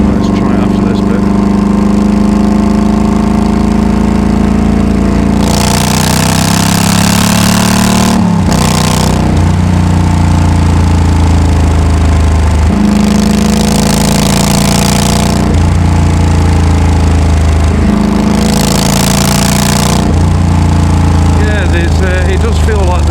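A Yamaha V Star 1300 cruiser motorcycle engine revs up to about 4,000 rpm and holds a steady high idle in several surges, loud and close, with low rumbling harmonics throughout.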